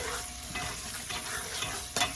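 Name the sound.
stirring shrimp fried rice with chicken in a pan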